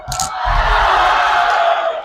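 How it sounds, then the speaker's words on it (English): A wrestling-match crowd at the Holtville Rotary event cheers and roars in a sustained loud swell after a short shout, the noise filling the space for a couple of seconds. "The crowd going wild for the antics, post-match antics of Ricky Rocket or flip."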